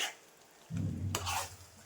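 A spoon stirs masala mixed with tamarind juice and jaggery in a pan for North Karnataka-style stuffed brinjal curry. After a quiet start, close scraping and wet sizzling stirring continue without speech.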